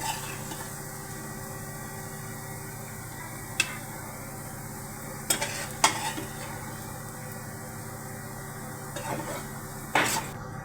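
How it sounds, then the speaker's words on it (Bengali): Garlic and onion frying together in a pan while being stirred: a steady close sizzle runs throughout, broken by a few sharp clinks and scrapes of the spoon against the pan. "আমি কিন্তু এখানে একবারে রসুন পেঁয়াজ ভেজে নিলাম"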